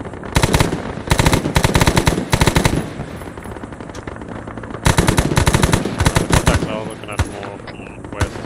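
Automatic gunfire from the military shooter game Arma 3 crackles in rapid, loud bursts, dense volleys of shots in two main clusters with scattered single reports between them.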